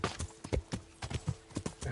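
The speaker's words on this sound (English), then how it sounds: "the horse gets stuck quite a lot when you try and go through forests" Horse hooves clip-clop at a quick, uneven walking pace, close and moderately loud and heard alone, as the horse is ridden through steep forest in the video game Kingdom Come: Deliverance.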